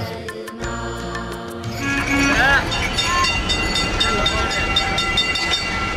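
A Kolkata tram rolls along its rails with a steady mechanical rumble, while bright ringing tones sound early on, then a louder, denser clatter takes over from about two seconds to the end.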